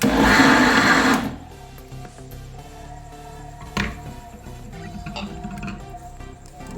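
Electric hand beater whirring loudly for about a second as it briefly beats oil and butter into banana sponge cake batter, then cutting off to quiet clinks and handling noises.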